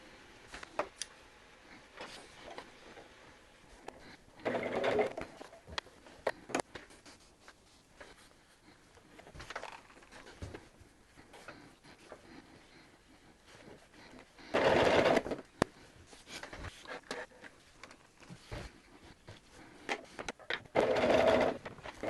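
A sewing machine stitching an appliqué wall hanging runs in three short bursts of whirring separated by long, quiet pauses filled with faint handling clicks, all fairly soft.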